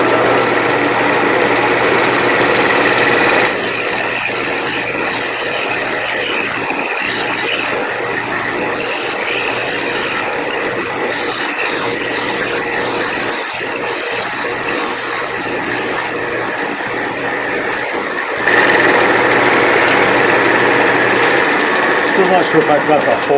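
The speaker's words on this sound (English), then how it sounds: "I'm going to come in here with a skew chisel and skew a little bit of this bottom flat." A skew chisel cuts the flat bottom of a small live edge cherry wood bowl on a lathe, a steady scraping, rasping whir that runs throughout with brief changes in pitch and loudness.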